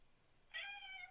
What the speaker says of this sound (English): That would be the Darron cat, not the Seth cat